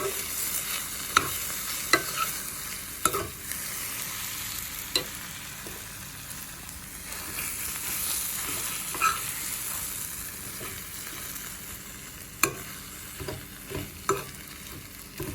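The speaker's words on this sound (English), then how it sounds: "So I'm just moving this around to allow the cheese to melt." A spatula pushes fluffy scrambled eggs and melting cheese around a pan: irregular scrapes and taps sound over a soft, continuous sizzle, close by and without speech, for about fifteen seconds.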